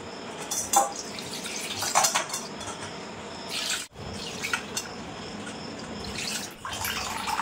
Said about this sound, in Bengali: ছানাটা কিন্তু আমি একটু ঠান্ডা জল দিয়ে ধুয়ে নেব খুব সুন্দর করে।